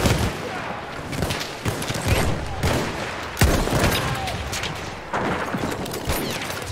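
Enemy machine gun fire in the World War I shooter Battlefield 1, dense rapid bursts of gunfire and booming shots roaring continuously and loudly, with bits of voice under the clatter.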